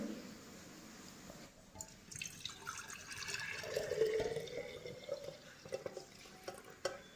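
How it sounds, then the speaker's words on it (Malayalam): Watermelon juice pours and splashes into a jug, a soft steady trickle that grows then tapers, with a few drips. "വത്തക്ക ജ്യൂസ് ജഗ്ഗിലേക്ക് ഒഴിക്കുകയാണ്"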